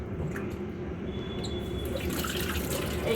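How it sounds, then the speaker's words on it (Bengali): Hands are washed under a steadily running kitchen tap during home cooking, a continuous close splashing hiss with no talk. "একটু হাতে ধুয়ে নিয়ে দাঁড়াও"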